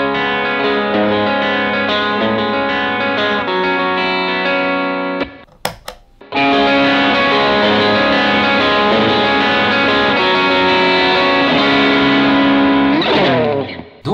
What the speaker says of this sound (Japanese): ブースターをオンにすることで原因も結構上がると同時に、なんかすごく低音にどっしりとした迫力が出て、ピッキングした時に音がキラキラするようになりますよね